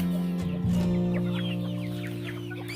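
A hen in a poultry shed clucks in a short series of soft, close calls beside an egg-laying box, over a steady low hum in the background.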